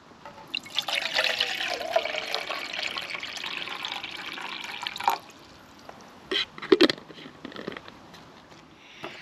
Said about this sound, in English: let's get some water topped in.